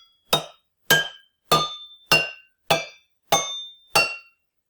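A spoon, ideally metal, taps a row of cups each tuned to a different pitch, seven clear, ringing strikes spaced about half a second apart, each with a short decay.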